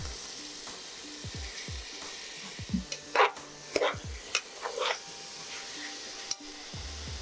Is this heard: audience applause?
no